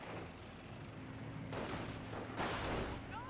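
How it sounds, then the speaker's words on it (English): Gunfire in the WWII strategy game Company of Heroes 1: a dull battlefield background with two sharp bursts of rapid shots, loud and close, the second burst heavier. "We're under fire, my God!"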